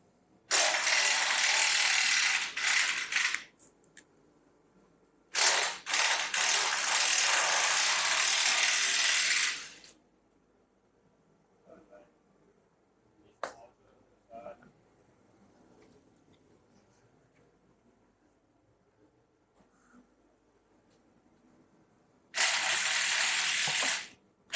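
A ratchet loosening the brake caliper carrier bolts on a Renault Trafic van, three loud close bursts of rapid clicking separated by quiet gaps with faint knocks and handling noises.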